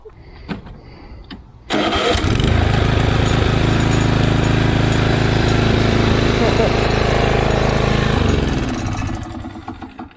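A small lawn mower engine is pull-started with a short cord rattle, catches at once and runs loud and steady nearby for several seconds before easing down; voices talk briefly around it.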